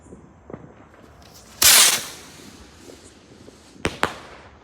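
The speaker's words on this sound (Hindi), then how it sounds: "हमने ऐसा पटाखा छुटाया" Diwali firecrackers bursting nearby, one loud sharp blast followed by a fading hiss, then two quicker cracks a couple of seconds later, with faint background noise between.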